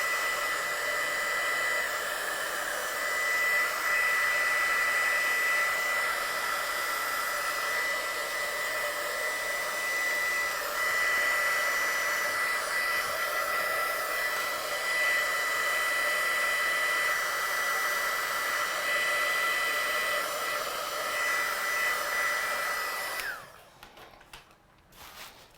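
A hair dryer blows steadily and close for over twenty seconds while drying a watercolour card, a constant whooshing hum that stops abruptly near the end.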